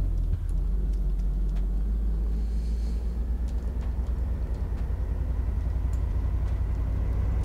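Steady low engine rumble from a car in the video game DayZ Origins, constant and droning from start to finish, with no talk.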